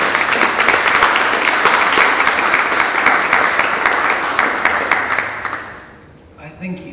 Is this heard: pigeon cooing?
no